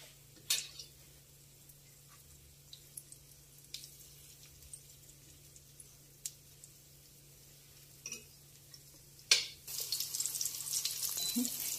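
Liver frying in a pan, browning on both sides: faint scattered crackles and soft pops over a quiet background, swelling into a louder steady sizzling hiss for the last couple of seconds.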